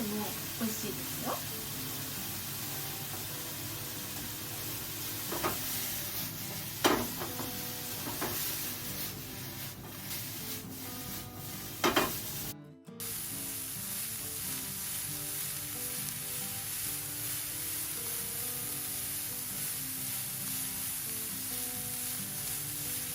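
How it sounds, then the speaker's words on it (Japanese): Cabbage being stir-fried in a pan, a steady close sizzle with occasional scraping and tapping stirring strokes, a brief cut partway through, and a person talking over it. "これをしんなりするまで炒めます。"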